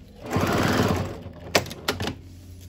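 A sewing machine runs briefly along the edge of a placemat, a short burst of rapid stitching that fades out, followed by a few sharp clicks and handling sounds.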